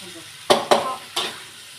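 Stir-frying in a wok: three sharp clanks of a utensil striking the pan over a steady sizzle, close and fairly loud, with no talking.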